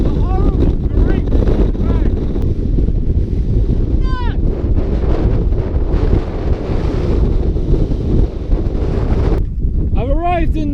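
Gritty windstorm high in the Andes on the Chile–Argentina crossing, a loud, constant roar of gusts buffeting the microphone, with a voice cutting in briefly near the start and again at the end.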